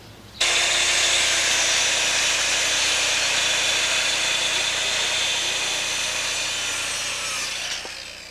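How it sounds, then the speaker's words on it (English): A power circular saw rips through a wooden deck board in one continuous, loud cut lasting about seven seconds, its whine starting abruptly and tapering slightly before the blade winds down at the end. "finally I'll be cutting this with my power circular saw here, and this will be the final length"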